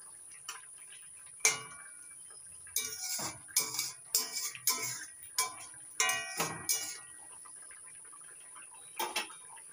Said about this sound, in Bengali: মাছগুলো একটু উল্টে দিচ্ছি।